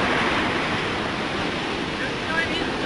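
Ocean surf on a Pompano Beach, Florida shore just past high tide during Hurricane Sandy, a continuous loud roar of breaking waves mixed with gusting wind buffeting the microphone.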